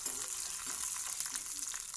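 Cashew nuts fry in a pan of hot fat for payasam, giving a close, continuous crackling sizzle with small pops and faint stirring scrapes.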